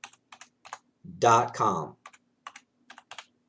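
Crisp individual keystrokes tap on a computer keyboard in short, irregular clusters, close and clear, with a brief spoken phrase breaking in partway through.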